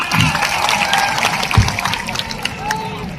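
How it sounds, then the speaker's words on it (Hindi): Crowd at a tribal rally for World Adivasi Day in Dungarpur applauding and cheering loudly and continuously, a dense wash of clapping with voices mixed in. "जोरदार तालियां।"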